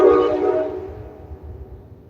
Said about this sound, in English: What I thought was the train hitting something was apparently just a very abrupt stop